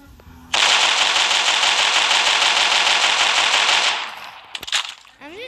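Sustained automatic gunfire from a video game Arsenal match, a dense continuous burst lasting about three and a half seconds, loud and close, then tapering into a few scattered shots and clicks.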